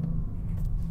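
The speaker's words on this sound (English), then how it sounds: "neither is a soft limiter in an Audi V8" Audi RS6 V8 engine revving hard against its soft limiter, a loud, steady low droning rumble held close with no break for just under a second.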